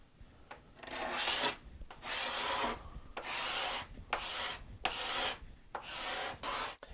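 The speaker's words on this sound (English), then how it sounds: "cabinet scraper" A cabinet scraper works along the glued center seam of a steel-string guitar's wooden back. About six rhythmic raspy strokes, each roughly half a second to a second long, are separated by short pauses and heard close and alone.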